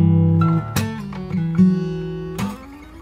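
Fingerstyle acoustic guitar playing, clear plucked notes and ringing bass strings with a few sharp strummed accents, played close and alone.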